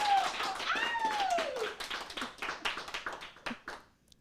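Applause at the close of a charity livestream, a short burst of scattered hand claps that thins into a few separate claps, with a brief tonal squeak near the start.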